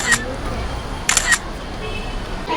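A camera shutter clicks up close on a busy street in Ximending, Taipei, once early and then as a quick double snap about a second later, over a soft outdoor hum.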